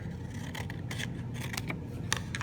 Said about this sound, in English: I'm on the angled line, and I'm going to cut along there.